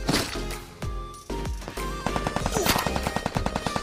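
Gunfire in the mobile shooter Free Fire, a burst of single shots that builds into rapid automatic fire with sharp repeated cracks, loud and close, layered over game music and effects.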